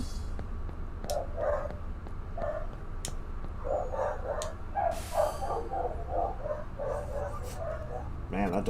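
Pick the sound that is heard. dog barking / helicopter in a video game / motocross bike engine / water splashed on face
dog barking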